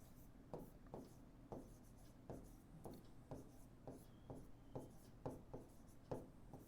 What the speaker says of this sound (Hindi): तो यहां लिखेंगे समीकरण की तुलना